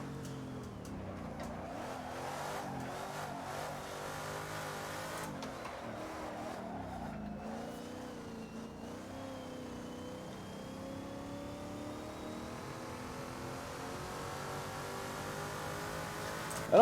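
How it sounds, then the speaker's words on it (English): A small block Ford V8 race engine in the Assetto Corsa racing game, for a 1970s Trans Am car, drones continuously as the car holds revs and shifts through gears, a steady loud mechanical roar with no talk. "I don't like the way this small block Ford sounds in Assetto Corsa."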